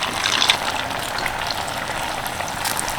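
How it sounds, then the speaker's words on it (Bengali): Semolina and potato snacks fry in medium-hot oil in a kadai, a soft, even bubbling sizzle with small crackles, steady and close throughout. "তো চলুন এবার এক এক করে ভেজে নিই"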